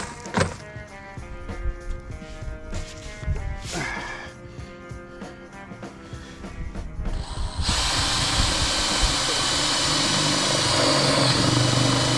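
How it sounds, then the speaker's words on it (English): A power drill with a worn old bit bores into a deck railing post, first chattering and stuttering through several short bursts, then settling into a louder, steady continuous whine that runs to the end. "My old crappy drill bit."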